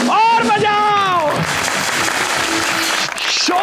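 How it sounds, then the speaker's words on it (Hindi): A television studio audience applauds steadily through the whole moment while someone speaks over the start of the clapping. "तालियां वालियां और बजाओ, और बजाओ"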